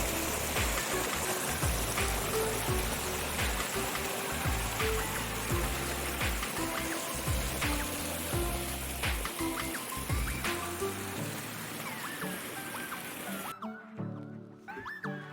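Water rushes and spills like a small waterfall in a village, a steady close splashing that carries on throughout and fades abruptly near the end.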